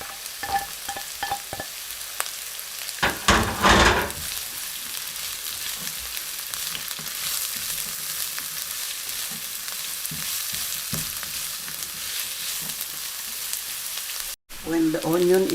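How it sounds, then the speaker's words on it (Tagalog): Onion frying in a hot pan, a steady loud sizzle with brief scraping bursts as it gets stirred near the start, then a long even hiss. "Put the onion."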